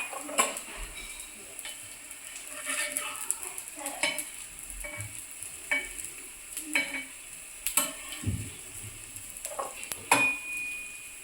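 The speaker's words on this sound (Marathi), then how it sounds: "आपली आलू टिक्की चांगली फ्राय झालेली आहे, ब्राऊन" Soyabean tikki frying in a pan, a soft crackle under scattered stirring scrapes and clinks of a utensil against the pan.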